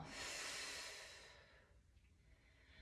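A long, soft exhale through the nose and mouth during a mat exercise with a resistance band, a breathy hiss fading out after about a second and a half into quiet room tone.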